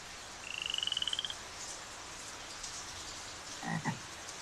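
A green toad in a desert cave gives a single rapid, trilling croak of about a dozen pulses, fairly close and clear over a soft background hiss, followed by a couple of brief low calls.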